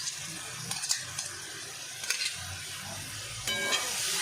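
Soya chunk kofta curry masala sizzles softly in a pan on a low gas flame as yogurt is stirred in, with faint scraping stirs and a steady frying hiss throughout.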